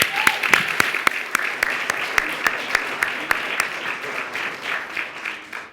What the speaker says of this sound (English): So let's give a round of applause to all the teachers.